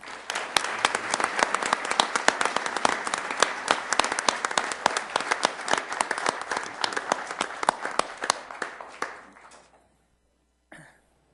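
A council meeting audience of counselors, citizens and scouts breaks into sustained clapping, many hands at an even, busy rhythm for about nine seconds before tapering off into silence, with a short final scatter of claps near the end.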